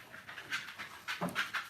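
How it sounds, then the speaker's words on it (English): Two dogs, one a little Patterdale terrier, pant quickly and unevenly at close range, with a soft whimper near the end. "there's my 2 dogs"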